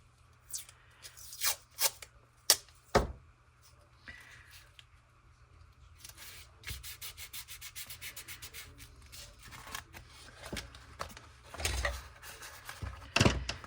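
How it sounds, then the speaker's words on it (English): Tape being pulled and pressed over a rip in a faux leather journal, giving quiet rubbing and scraping sounds, a few sharp crackles and a longer run of fast tearing ticks near the middle, close and fairly faint. "I'm going to put a piece of tape on there."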